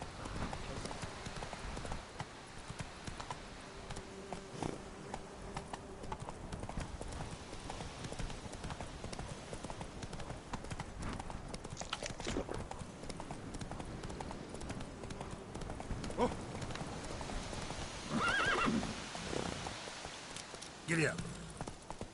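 Horse hooves clip-clopping in the video game The Witcher 3, a steady trotting rhythm running throughout at moderate level, with game ambience and a few louder sound effects near the end.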